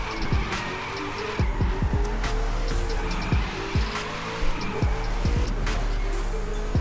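A car drifts in the racing video game The Crew 2, engine revving over repeated tire squeals and skids that come in bursts, loud and continuous with no voice audible.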